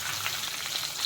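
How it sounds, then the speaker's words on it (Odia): Vegetables frying in hot oil over popped mustard seeds for an Odia stir-fry, a continuous even crackling sizzle heard close and alone. "ସୋରିଷ ତ ଫୁଟିଗଲାଣି, ଏବେ ପରିବା ଦେଇଦେବି"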